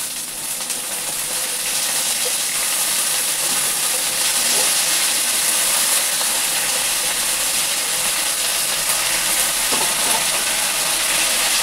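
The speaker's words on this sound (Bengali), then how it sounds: "এবারে আমি শাকটা দিয়ে দেবো" Leafy greens hit a hot pan already holding fried potatoes, giving a steady, loud hiss and sizzle that runs unbroken from start to end.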